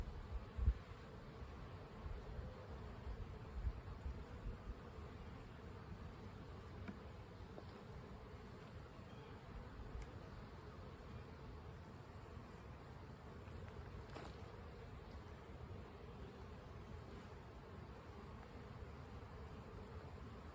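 Honey bees drone in a steady, low buzz around an opened hive during an April colony inspection, a soft, continuous hum that holds level throughout with no talking.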